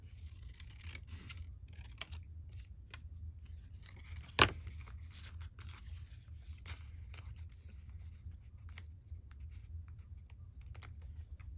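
A single crisp snip of scissors cutting pink paper ephemera for a shabby-style craft project, close and isolated over a quiet room hum with faint light rustles.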